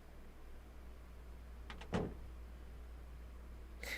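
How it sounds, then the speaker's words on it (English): A door shuts once with a brief, fairly loud thud after a couple of soft clicks, set against a low steady hum in an otherwise quiet room, with a faint click near the end. "The door closed, I could hear their footsteps trail off into the distance."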